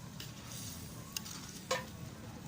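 Small dried anchovies being stirred in a pan, a soft steady scraping bed broken by a couple of sharper clinks and scrapes of the spatula, fairly quiet and close, with no voices.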